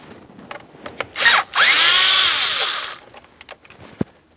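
Power tool driving out a T20 Torx screw under a Ford Transit 250 steering column: a short whirring burst, then a longer steady high whine of about a second and a half, with small clicks and taps around it.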